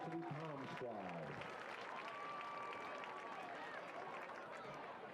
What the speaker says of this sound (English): a big round of applause for our varsity Palm squad